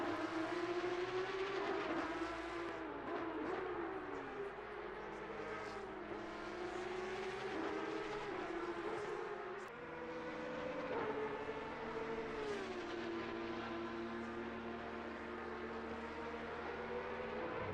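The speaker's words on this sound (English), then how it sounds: "Martin Groenewald pulling into the pits right now." A race car's engine in a sim racing game at Hungaroring, a sustained droning whine that shifts pitch as the car slows and pulls into the pits, steady and fairly close throughout.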